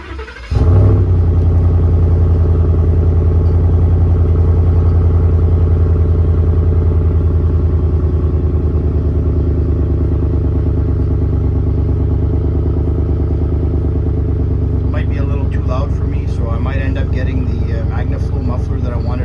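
Ford F150 5.0L V8 pickup with a Cherry Bomb glass pack in place of a straight pipe, driving: a loud, steady low engine drone and exhaust rumble holds close throughout, with no one speaking.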